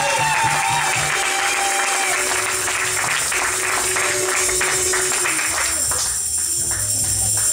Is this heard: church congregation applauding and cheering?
yes